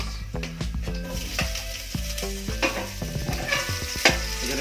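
Garlic and onion fry in a hot pan for sinigang, giving a loud, continuous sizzle broken by clattering stirring and scraping of a utensil against the pan, with no talking.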